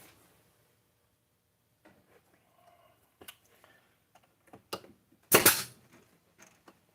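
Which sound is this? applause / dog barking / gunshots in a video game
gunshots in a video game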